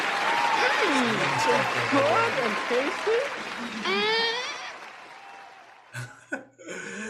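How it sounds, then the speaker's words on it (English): Applause at the close of a show episode sounds as a dense clapping wash under overlapping voices and bits of laughter, then breaks off near the end, leaving a few short vocal sounds. "Applause for that."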